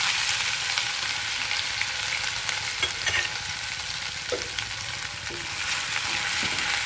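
Ginger-garlic paste sizzles and fries steadily in hot oil in a pan, already holding mustard seeds, cumin and asafoetida, for sev tameta nu shaak; a continuous close hiss with a few scraping stirs of a spoon.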